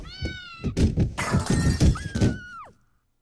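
In the video game Goodbye Deponia, a cat lets out several plaintive meows, followed by a clattering crash and a final rising-then-falling yowl that cuts off into silence.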